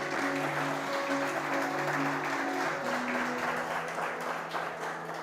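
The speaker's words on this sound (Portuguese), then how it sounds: "Você pode aplaudir o Senhor por isso?" Church congregation applauding at a Paz Church service, a sustained dense wash of clapping filling the room with steady loudness, with faint tonal music underneath and no clear speech.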